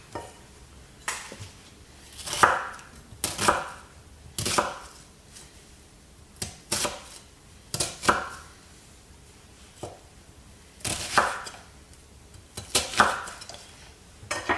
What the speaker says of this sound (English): So basically just cut them in chunks.